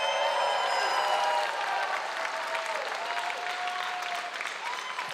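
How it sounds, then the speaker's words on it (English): Audience at a comedy show at the Agora Theater breaking into sustained, dense applause that stays loud throughout before easing off slightly toward the end. "Give yourself a round of applause."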